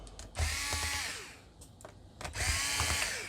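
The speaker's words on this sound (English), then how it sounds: "First we need to unscrew" Screws on an HP OMEN 15 laptop are undone with a power screwdriver, heard as two close whirring bursts with a brief pause between them.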